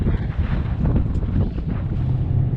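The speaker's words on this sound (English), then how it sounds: "So it's extremely windy out today" Strong wind buffets the microphone outdoors in a farm field in a steady, loud roar of low rumbling gusts, with no speech.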